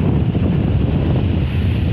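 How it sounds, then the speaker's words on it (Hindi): Sea waves off Qatar, seen from a ship, crash continuously under heavy wind, making a loud, dense, rumbling roar with constant buffeting and no voices. "लहरें देख सकते हैं लगातार तोड़ मार रही है"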